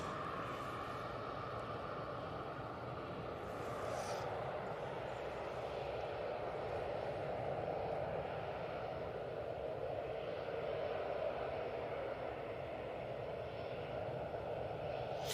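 Ryanair airliner lining up for departure to Lisbon at Manchester Airport, a distant, faint jet engine rumble and hiss holding steady, swelling slightly over the stretch.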